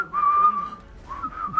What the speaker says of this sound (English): Get ready to whistle